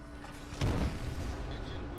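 A warship's guns firing high-explosive shells in World of Warships, a booming salvo rolling out over a low background rumble, followed by a fading tail.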